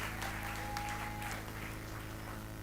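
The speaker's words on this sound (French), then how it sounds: "Applaudissez très fort." A congregation at a church service applauds loudly, a continuous rain of clapping with some scattered louder claps over a droning hum, keeping an even level throughout.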